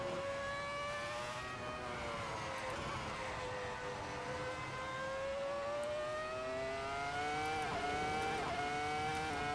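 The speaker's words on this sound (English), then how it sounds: "I think sounds pretty good, especially with this Formula 1 car" A Formula 1 car engine in the racing game Assetto Corsa screams at high revs, pitch rising and dipping through gear shifts and braking, loud and continuous throughout.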